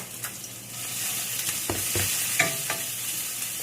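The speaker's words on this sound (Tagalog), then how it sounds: "So, ipapry natin yung ginger." Sliced ginger fries in hot oil in a pan for fish sauce, with a steady sizzle broken by a few sharp clacks of a utensil stirring.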